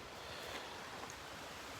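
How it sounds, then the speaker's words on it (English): Water gurgles and washes steadily outdoors in a pleasant natural spot, a soft continuous rush mixed with faint wind noise and no talking. "gurgling water behind me."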